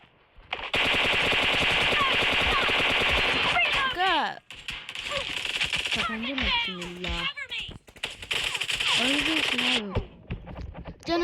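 Rapid automatic gunfire from a shooter video game, loud sustained bursts with brief pauses, while someone talks over it.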